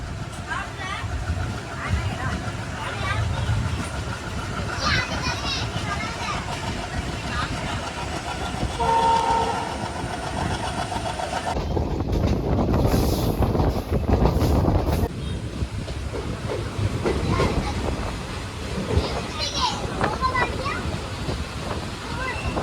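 An Ernakulam to Velankanni passenger train rumbles steadily along the tracks near Kottarakkara with a continuous low roar, a voice talking over it and a brief rise in noise midway.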